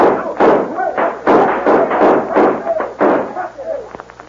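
Gunshots in a radio western drama, a rapid series of loud booming shots heard close, with a voice briefly under the closing shots.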